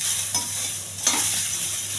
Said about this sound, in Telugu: ఇది చాలా సింపుల్ తాలింపు అండి.